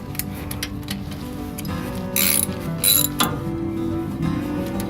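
A ratchet snugs down the rear differential bolts on a third-generation Toyota 4Runner, giving close, quick clicking bursts with brief pauses between strokes in a quiet garage.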